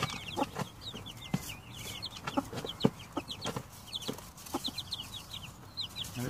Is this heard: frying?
no